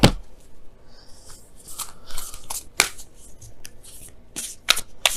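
Oracle cards for a tarot reading are shuffled by hand, a quick series of crisp riffling and slapping bursts, close and clear, with brief pauses between them.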